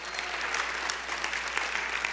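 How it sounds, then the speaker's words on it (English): An audience at a water summit gives a steady round of applause, the dense clapping spread across a crowd and held at an even level throughout. No speech can be heard over it. "So let's give them a round of applause, please,"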